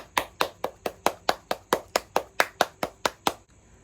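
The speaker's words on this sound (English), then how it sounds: "Now clap your hands." Steady hand claps, about fifteen in a row at an even quick tempo, sharp and close, then silence.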